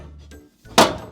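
Oven door shutting on a stack of metal pans: a short clatter of handling, a brief pause, then a single loud, close thunk as the door closes, trailing off quickly.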